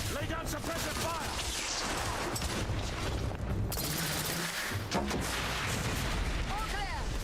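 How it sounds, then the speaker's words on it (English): Sustained gunfire and booming blasts from The Order: 1886, a Victorian London shooter game, with a thermite-firing weapon; dense, loud and continuous with rumbling low end, brief chirping sounds and some speech mixed in. "lay down suppressive fire"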